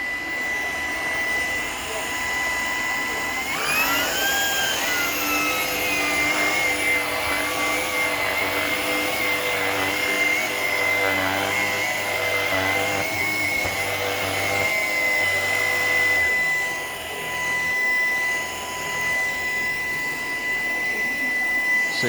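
A Shark PowerDetect vacuum cleaner runs steadily across a kitchen floor with a loud, continuous whine and motor roar, its pitch shifting slightly as it moves, close and dominant the whole time.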